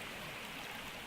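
A bucket filling with water in the Gold Rush video game, a steady rushing pour heard faintly and continuously.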